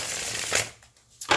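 A deck of solid-cardstock playing cards being shuffled, two quick riffling bursts close up, separated by a brief pause, with no talking.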